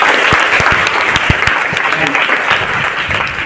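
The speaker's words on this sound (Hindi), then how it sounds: "लास्ट वन अपने लिए तालियां बजानी है।" Students at a motivational school seminar clap for themselves, a dense, loud round of applause from a large group with sharp individual claps standing out near the front.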